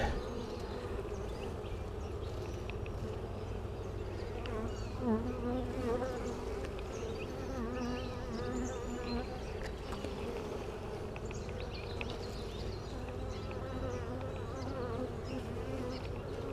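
Honeybees buzz steadily around an open hive during a beekeeper's inspection, a dense, continuous close drone with individual bees passing near at moments.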